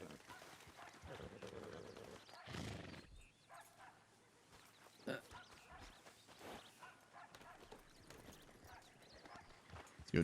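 Horse hooves clip-clopping in The Ranch RP game, faint and low under people talking, with an irregular stepping rhythm throughout.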